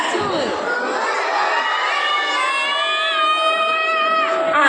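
Small children at a preschool anganwadi arts festival let out another loud hooting chorus on cue, high voices climbing and holding together for several seconds before breaking off with scattered shouts.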